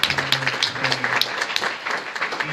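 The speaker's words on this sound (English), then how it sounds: "Let's give a round of applause." An audience at a national convention in a convention center gives a round of applause. The clapping is moderately loud and uneven, with distinct individual claps scattered over it and a voice sounding intermittently underneath.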